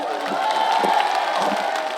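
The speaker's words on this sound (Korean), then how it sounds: "여러분 큰 박수 한번 보내주십시오" A crowd at a county-day celebration show cheers and applauds in a steady, dense wash of whoops and clapping that holds loud throughout, with a faint tonal hum underneath.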